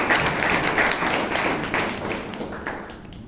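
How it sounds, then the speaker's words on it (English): Members at a Toastmasters club meeting in Bangalore applaud a speaker, a dense, fairly loud wash of clapping that stays steady and tapers slightly toward the end. "please give Alan a big round of applause."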